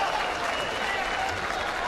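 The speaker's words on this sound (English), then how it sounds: "Crowd gives them a pretty good ovation in some standing." At a 2018 boxing match between Dmitry Bivol and Jean Pascal, the arena crowd rises in a standing ovation. Steady, dense applause and cheering fill the hall, with a commentator talking over it.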